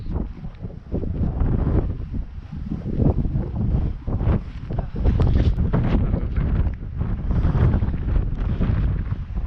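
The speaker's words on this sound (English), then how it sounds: "Windy. Very windy." Strong gusts buffet the microphone at Sango Sands on the coast, a loud, rough roar surging and dipping continuously with no voices.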